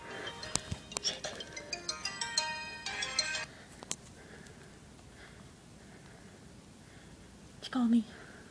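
A phone ringtone for an incoming call chimes in quick repeated melodic bursts for about three seconds, then stops; afterward comes quiet room tone with faint whispering and soft handling noise, and a brief murmur near the end.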